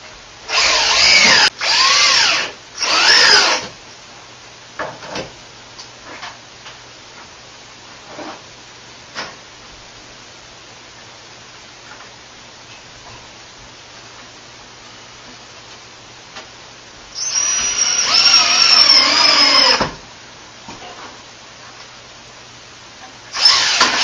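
Power drill driving screws during a bathroom remodel, several short whirring bursts near the start and a longer one later, close and loud, with quiet ticks and knocks between.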